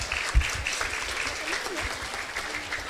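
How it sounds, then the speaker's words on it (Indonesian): Applause from a large crowd at a church Christmas Sunday school event in Palu, dense loud clapping over a room murmur, with a voice briefly talking over it. "Tepuk tangan buat Tuhan Yesus."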